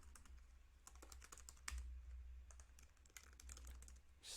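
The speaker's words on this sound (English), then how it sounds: "Just type in testing" Quiet, rapid keystrokes on a computer keyboard as a word is typed into a web form field, a steady patter of soft clicks with no talking.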